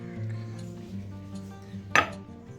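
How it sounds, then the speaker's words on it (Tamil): A scoop of ice cream goes into a blender jar for an Oreo milkshake, with a low hum giving way to a single sharp clink of metal against the jar near the end, and no voices. "இப்போ நாங்கள் இந்த ஒரு ஸ்கூப் ஐஸ்கிரீம் எடுத்து நம்ம இப்போ ஜாரில் போட போகிறோம்."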